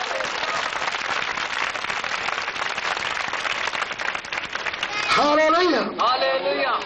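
A congregation claps loudly and continuously in praise during a church service, a dense wash of hands for several seconds before a voice rises over it near the end.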